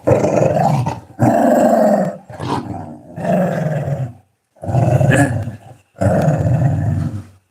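A small dog growls in several loud, close bursts separated by brief pauses while its coat is being taken off indoors.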